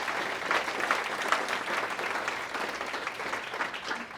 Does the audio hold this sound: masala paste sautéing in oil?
no